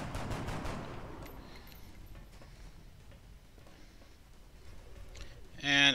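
Gunfire in the video game XCOM: Long War, a quick loud burst of shots at the start, then quieter clicks and game sounds under talk.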